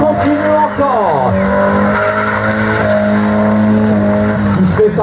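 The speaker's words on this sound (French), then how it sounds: "Stéphane Rizen, qui revient encore pour nous faire des dérapages." A rally car drifts with loud, sustained tire squeal and a high engine whine that bends in pitch, close and continuous throughout.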